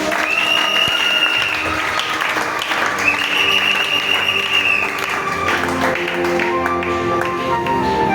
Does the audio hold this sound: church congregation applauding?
yes